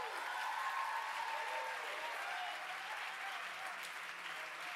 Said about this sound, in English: another round of applause for Kim Katrin Milan.